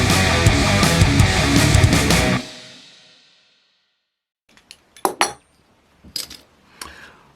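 A bottle of Grimbergen Dubbel beer is opened with a few sharp glassy clinks and clicks after a burst of loud noise fades to quiet.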